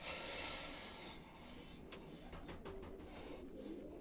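Pigeons cooing inside a dovecote, soft low coos mixed with a string of faint clicking and flapping sounds under a steady background hiss.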